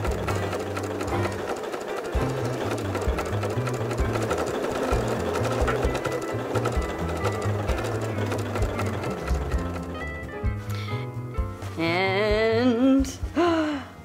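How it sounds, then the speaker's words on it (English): A sewing machine fitted with a walking foot stitches straight quilting lines two inches apart across a fabric panel for a casserole carrier, running loud, steady and rhythmic close up, then slowing and stopping near the end. "we're just going to sew straight lines down the panel with 2 inches in between"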